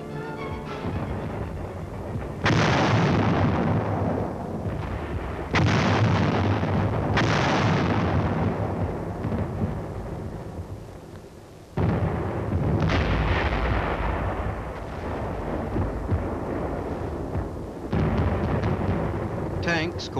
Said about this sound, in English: the big guns from this forward position concentrate their fire on known and